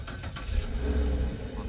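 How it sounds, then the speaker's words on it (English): Car engine cranking and settling into a low, steady idle right after a Nitro OBD2 plug-in performance chip was installed, a continuous close rumble with no talk over it. "Now, start the car."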